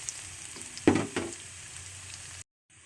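Chopped onion sautéed in a pan for ginisang mongo, a low sizzle with a couple of scraping stirs of a utensil near the start, then a sudden drop to silence.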